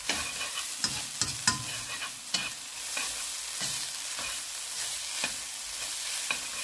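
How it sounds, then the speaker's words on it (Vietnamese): Noodles stir-fry in a hot pan with black soy sauce, giving a steady sizzle with repeated scraping taps of the spatula. The sound is close and has no talk over it. "Bây giờ mình chỉ xào lại cho cái màu nó thấm lại."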